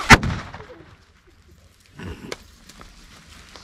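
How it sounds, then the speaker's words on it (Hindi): Firecrackers being set off outdoors: one sharp, loud bang at the start, then a quieter crackling burst a couple of seconds later. "दो लड़कियों ने फुल आतिशबाजी करने के लिए पूरे फटाकों में आग लगा"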